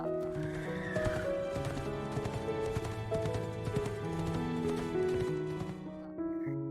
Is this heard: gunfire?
no